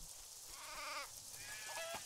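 Sheep bleat in the video game Craft the World, with two wavering, nasal bleats in quick succession over a steady game ambience, clear and fairly close, with no speech.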